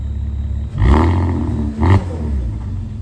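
A deep Porsche Cayenne 955 V6 engine with a muffler bypass rumbles steadily, swelling into two throaty revs, loud and close.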